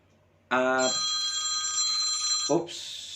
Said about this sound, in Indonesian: Ada telepon sebentar.